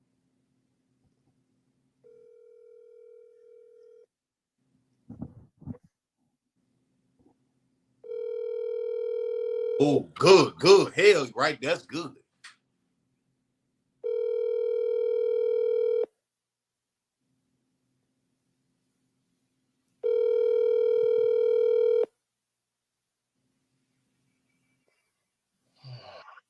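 Outgoing phone call ring tones on a speakerphone: repeated long, steady ringback beeps at regular intervals, with a burst of speech in the pauses between rings.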